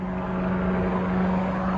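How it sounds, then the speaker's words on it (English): Steady, loud drone of the Aerocar flying car's propeller engine in flight, a constant hum with a strong low tone filling the cabin throughout, no talk. "I am actually flying the Aerocar."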